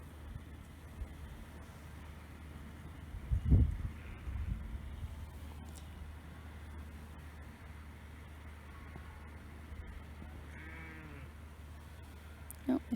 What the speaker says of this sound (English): there's sheep over there